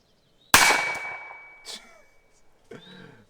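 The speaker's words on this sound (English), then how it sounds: "I hit the chronograph, obviously." A golf ball fired from a cheap pistol-style launcher strikes a chronograph with one sharp metallic crack that rings briefly and fades, followed by a faint knock and a soft rustle, close and alone.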